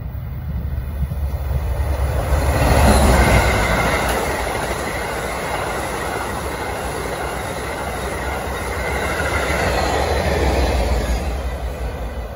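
An Amtrak Acela Avelia Liberty next-generation high-speed train passes close by, a loud sustained rumble and rush of wheels on rail that swells around the third second and again near the tenth, with faint high wheel squeal.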